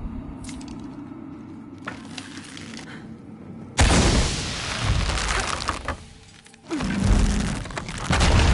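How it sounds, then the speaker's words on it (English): A loud explosion goes off in the Tomb Raider video game, a sudden heavy boom followed by sustained roaring debris and rumble, dipping briefly before another crashing burst, over a quieter ambient background with no talk. "I'll need an explosion to swing the platform."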